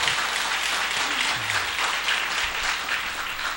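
A church congregation applauds during a Sunday afternoon service: dense, steady clapping from many hands fills the space for several seconds, with a faint voice briefly underneath.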